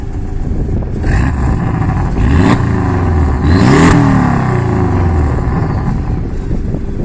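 A 350 hp Porsche Boxster 718 S engine revs loudly and close by, with its pitch climbing through two strong blips and then settling back into a steady, throaty idle-to-mid rumble. No voices are heard.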